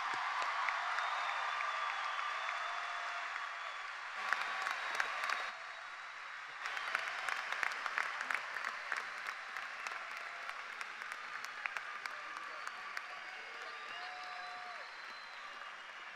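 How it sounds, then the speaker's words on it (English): Sustained applause from a crowd honoring the graduating class of 2022 at a community high school graduation ceremony, steady and fairly distant across the whole stretch, with a brief dip partway through before the clapping swells again. "Let's give a round of applause to all our graduates."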